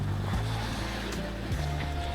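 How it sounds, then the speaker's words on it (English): Water rushing through a storm-cut pass splitting Honeymoon Island, heard as broad steady wash with low rumbling gusts and sporadic splashes, close and continuous, no voices. "You can see the amount of water that's flowing through here is pretty decent."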